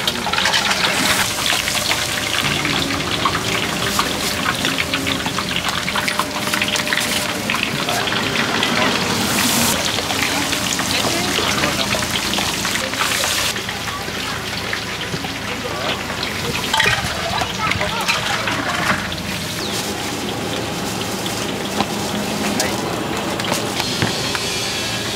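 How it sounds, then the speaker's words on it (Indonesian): Chicken pieces deep-frying in hot oil at a busy food stall, a steady loud crackling sizzle filling the whole stretch, with people talking nearby. "Terus goreng dan menggoreng bang eh."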